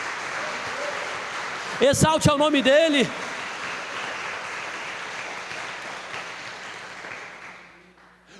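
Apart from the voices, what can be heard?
congregation clapping to exalt the name of Jesus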